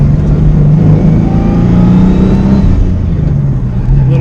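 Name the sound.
turbo V6 Mustang engine revving while downshifting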